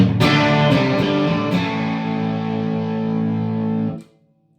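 A distorted electric guitar rings out a sustained chord drenched in reverb, loud and full, then stops abruptly near the end.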